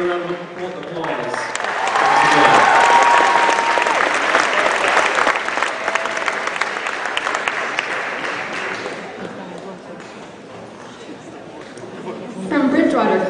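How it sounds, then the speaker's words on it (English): A senior awards ceremony audience claps in a sustained round of applause that swells and then fades, with chatter mixed in and a voice speaking near the end. "I'll give them all another round of applause"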